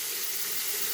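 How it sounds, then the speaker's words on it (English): Hot water runs steadily from a tap into a sink before a shave, a close, even hiss of flowing water lasting about a second. "I wet my face first. Hot water, very hot water, hot as you can do."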